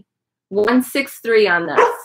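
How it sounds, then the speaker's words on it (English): A dog barks several times in quick succession, close and loud, at a live flea market shopping session. "That was my dog."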